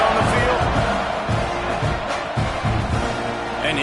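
Loud, steady roar of a college football stadium crowd at a game against Alabama, swelling around the kickoff and filling the whole stretch without break.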